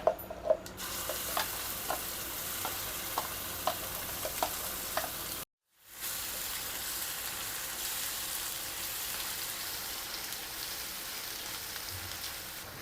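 Freshly ground masala fries in oil with cumin and asafoetida for an onion sabji, making a soft, steady sizzle broken by regular stirring taps, a brief silent gap, then continued gentle frying.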